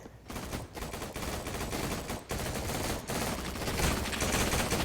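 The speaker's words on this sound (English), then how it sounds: "Heavy gunfire." Heavy gunfire in a gun fight arena video game, a dense, continuous barrage of rapid shots and bursts with brief gaps, loud and close throughout with no talking.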